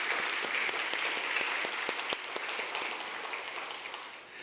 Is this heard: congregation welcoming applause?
yes